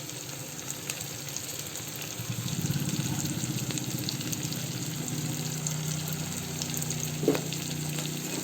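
Asafoetida powder and curry leaves sizzling in hot oil for a taro curry: a steady, close, dense crackle that swells after a couple of seconds and holds, with one brief clink near the end.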